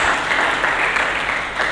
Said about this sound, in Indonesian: Berikan tepuk tangan yang meriah bagi Yesus Kristus.